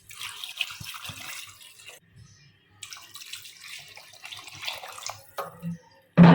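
Tap water runs and splashes into a cooking pot of arvi gosht, taro and meat curry, in a home kitchen, about three glasses in all, a steady hiss with a brief pause and a louder gush at the end.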